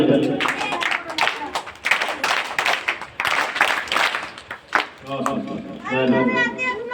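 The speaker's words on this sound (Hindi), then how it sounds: "और इसका ताली बजाइए।" Scattered applause and clapping from an audience at a Republic Day school program in India, mixed with children's chatter and a voice speaking over it, close and lively.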